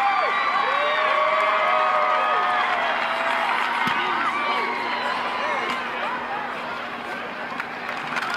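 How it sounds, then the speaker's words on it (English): Stadium crowd at a college football game roaring and cheering loudly and continuously around a kickoff, with whoops rising above the din and a commentator talking over it. "You can hear the crowd."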